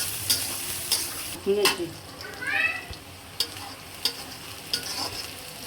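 Onion fries in a pan for a chicken curry with potato and tomato, a soft background sizzle punctuated by clinks of a spoon against the pan and a short scraping stir.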